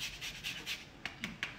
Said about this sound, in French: Comme une petite râpée de chou-fleur.